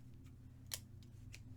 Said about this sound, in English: So we'll snip it here